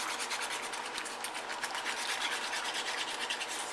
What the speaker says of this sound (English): I'm whisking it all so that all the ingredients are fully incorporated